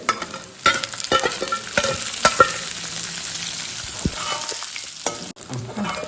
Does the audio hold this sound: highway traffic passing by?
no